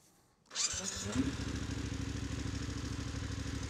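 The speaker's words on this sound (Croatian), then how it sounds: "A palimo motor." A Voge 900DSX motorcycle engine cranks and catches about half a second in, then settles into a steady, close, even idle with no talking.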